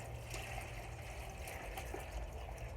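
Brine poured into the cavity of a raw turkey being brined, a steady close-up trickle and splash of liquid running without pause, with no talking over it.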